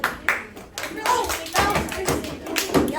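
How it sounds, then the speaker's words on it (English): A group of children in a classroom claps in short bursts, sharp hand claps landing in a rough rhythm with a few voices murmuring underneath. "Clap 3 times if you can hear me."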